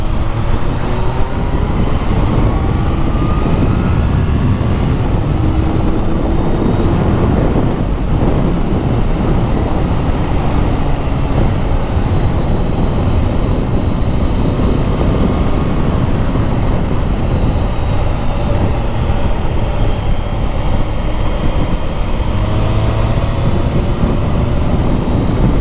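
Triumph Sprint RS 955i motorcycle engine while riding, heard as a steady, loud, continuous roar mixed with rushing wind noise and no speech, holding a constant level throughout.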